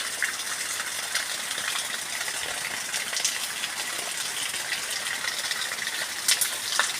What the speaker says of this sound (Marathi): पाणी पण वाहतंय चांगलं.